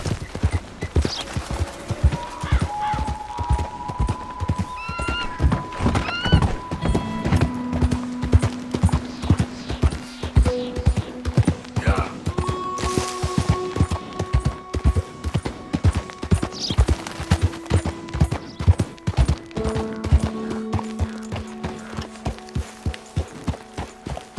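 Red Dead Redemption 2 game audio: a horse gallops in a steady, rapid rhythm of hoofbeats, with occasional whinnies and neighs over ambient in-game music tones, loud and continuous throughout.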